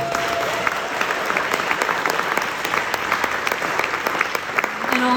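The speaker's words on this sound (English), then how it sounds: "So a huge round of applause for that," A festival crowd at a music festival main stage gives a sustained round of applause, dense, even clapping held steady throughout with a few louder claps standing out.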